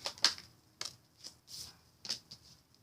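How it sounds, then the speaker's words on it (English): Soft, irregular riffling and slapping of tarot cards being shuffled nearby, a few quick bursts separated by brief pauses, with no talking. "If you don't like the shuffling, go ahead and fast forward."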